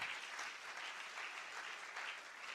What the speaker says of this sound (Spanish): Un aplauso al Señor por Inginia